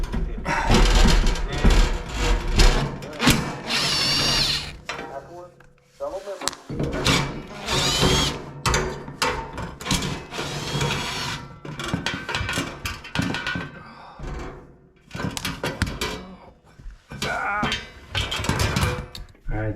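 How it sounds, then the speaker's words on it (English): A power drill driving screws at an off-grid cabin, several loud whirring bursts separated by short pauses, close by, with some talking mixed in. "I gotta put 4 screws in here"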